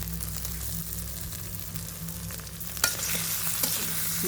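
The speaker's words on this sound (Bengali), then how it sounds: "সব মশলা কষে নিব" Dried chili, turmeric and salt fry in a pan in a steady soft sizzle, with a low hum underneath and a few sharp scrapes of stirring near the end.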